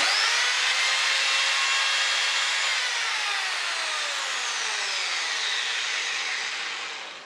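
Close and loud, a hammer drill with its trigger locked on runs in a steady, continuous high whine with a rough hammering buzz, slowly winding down near the end, with no voices.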